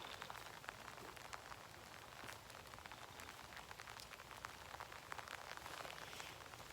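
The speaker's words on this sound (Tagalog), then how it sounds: "Yun, kita mo umulan." Rain falls steadily on a dairy farm near the cattle shed, a faint, even patter of drops that goes on without a break and has no voices over it.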